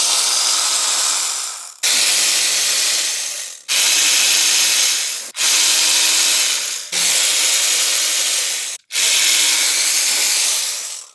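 Long rasping ratchet strokes loosen T30 bolts on the throttle actuators of a BMW S65 V8 engine, six loud clicking sweeps of about two seconds each with short pauses between, close up and alone.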